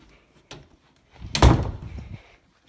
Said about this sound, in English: They close the door for a second here.